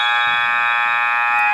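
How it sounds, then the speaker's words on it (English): A loud electronic scoreboard buzzer in a basketball gym during a girls' or boys' high school game, one continuous harsh, blaring tone held steadily for over a second and a half with no talk over it. "it's better to have a buzzer that's too loud than one that's not loud enough"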